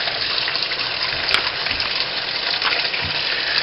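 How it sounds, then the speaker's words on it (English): Warm water gushes into a bucket of Lego bricks, a steady, close splashing rush that runs continuously at even volume with no talking. "we're going to fill them up with warm water"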